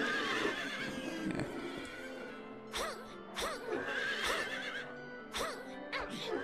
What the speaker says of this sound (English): Like the proper dead horse whinny.